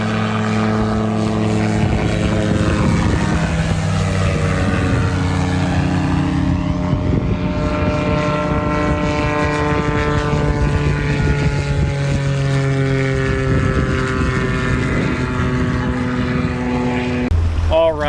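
A float plane flies over Abaco in the Bahamas, its propeller engine making a loud, steady, close drone that holds unchanged for the whole stretch before cutting off abruptly at the very end.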